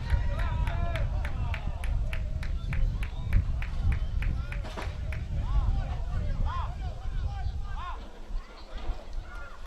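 Crowd noise from Laredo Heat supporters at a soccer match in Denton, a continuous murmur of the crowd under commentary, with sharp whistle-like chirps repeating in the first half.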